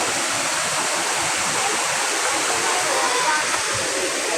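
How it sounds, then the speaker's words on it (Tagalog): Daranak Falls in Rizal roars as a loud, steady wash of falling water that fills the whole stretch without a break. "Yan ang tinatawag na Daranac Falls."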